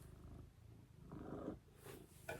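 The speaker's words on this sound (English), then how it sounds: "You guys are gonna hear Murphy's purrs." Murphy the cat purrs right up close, a soft rumbling vibration with faint breathy snorts and rustling, quiet and intimate throughout.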